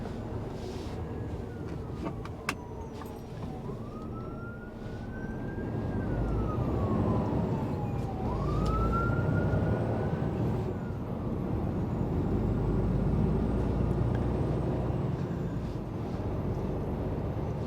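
A police siren wails and rises and falls as the car passes a truck hauling heavy timber, rising above the truck's steady cab rumble and road noise.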